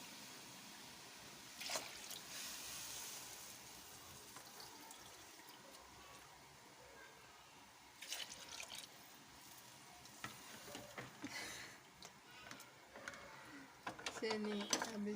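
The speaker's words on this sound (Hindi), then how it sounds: "तो हम 4 कटोरियाँ ऐड करेंगे पानी।" Water tipped into a pot of chicken and yogurt for chicken pulao, a faint splashing pour with light stirring clatter, quiet and close, ending with a brief louder burst of sizzle and clinks.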